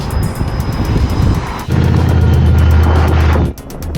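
A Lamborghini drives past loudly with a steady engine roar and wind rush, the sound jumping louder partway through and then dropping off sharply near the end.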